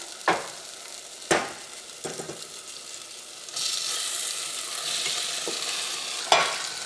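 Chicken goes into cooked-down tomato paste in a frying pan: a few sharp knocks and scrapes, then a louder, steady sizzle builds as the pieces fry.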